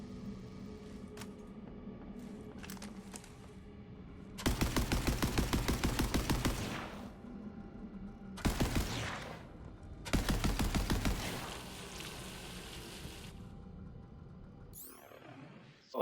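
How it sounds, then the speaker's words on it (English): In the looter shooter Borderlands 3, a freeze gun fires three long automatic bursts of rapid, even clattering shots, separated by short pauses, over a low steady background hum that ends with a brief swoosh. "it is my freeze gun"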